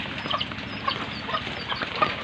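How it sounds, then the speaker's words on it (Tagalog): Chickens cluck and chatter in a busy group, several birds calling at once over a steady farmyard background, moderately near. "Tignan niyo po yung mga manok namin."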